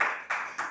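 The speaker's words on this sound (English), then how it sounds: "A big round of applause to our young Gaviria." Brief burst of hand clapping from an audience at a Toastmasters club meeting, three quick surges of applause heard close.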